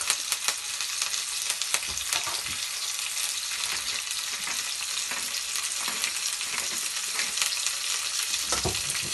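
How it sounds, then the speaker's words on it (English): A pork chop roasts in a pan with apple and shallots, giving a loud, steady sizzle with crackling pops and the odd scrape of stirring. "you just want it to caramelise the apple and the shallots and get good colour on the pork chop"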